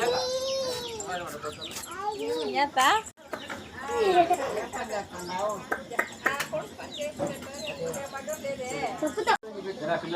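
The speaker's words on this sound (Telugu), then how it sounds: "పో కోళ్ళ దగ్గరికి దర్శక్" Hens clucking near a child at home, their short calls mixed with a child's and adult's chatter and shouting throughout.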